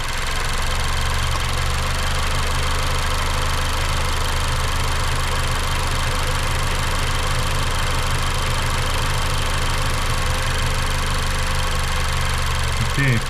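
A 2019 Mazda CX-5 engine holding a high idle, a loud, steady drone that stays even for the whole stretch, with no voices over it.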